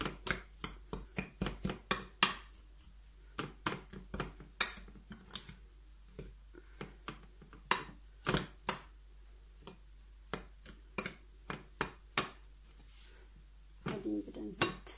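Ground pistachio, icing sugar and warm milk being stirred by hand, giving a steady run of sharp clinks and scrapes with short pauses, close up and moderately quiet, with no voices.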